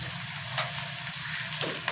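Onions browning in hot oil with turmeric and other spices for a mixed dal tadka, giving a steady close sizzle with small crackles and light stirring, with no voices.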